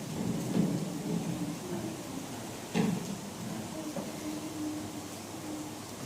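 Steady rain patters under low rumbling thunder, with a couple of heavier rolls rising out of the continuous wash of noise.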